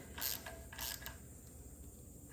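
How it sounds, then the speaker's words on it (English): A small wrench snugs up a bolt during an aircooled Porsche camshaft install, with two brief, faint clicking strokes close by and then quiet. "we'll use a small wrench to simply snug this guy up"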